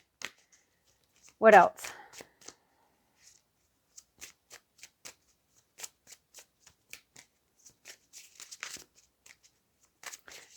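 Tarot cards being shuffled close by, one loud riffling burst early followed by scattered soft flicks and taps of cards being handled, with a brief spoken phrase at the start.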